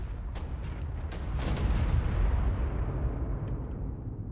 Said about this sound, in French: On voit l'explosion, il touche.